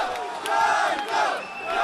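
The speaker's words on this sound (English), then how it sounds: "The pro-Russian crowd cheers as Ukrainian government supporters are literally thrown out of the building" A pro-Russian crowd at a rally in Kharkiv roars and cheers, a loud sustained mass of shouting voices swelling and surging over a couple of seconds.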